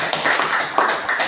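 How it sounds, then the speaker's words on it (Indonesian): Classroom of students applauding classmates, a brief burst of close, light clapping in quick, uneven rhythm, moderately loud. "Tepuk tangan dulu buat teman-teman."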